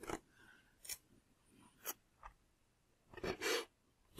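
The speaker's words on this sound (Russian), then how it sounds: "берем кусочки скотча и проклеиваем" Short pieces of adhesive tape pulled off and pressed along a seam of a foam model seaplane, the Nyrok Next 1300, giving several separate crackling, rasping strips with quiet gaps between them, close and fairly soft, with no talk.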